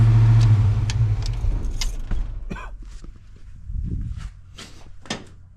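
A 1980 Chevy K20 truck with a 400 small-block V8 idles loudly and then shuts off within the first couple of seconds, followed by quieter clunks, rattles and a few sharp knocks in the stillness.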